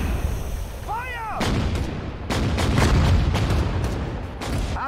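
Heavy artillery cannon blasts boom in the video game Sudden Strike 4 in a rapid series of loud, sharp explosions, preceded by a brief whistling chirp, with a voice shouting among them.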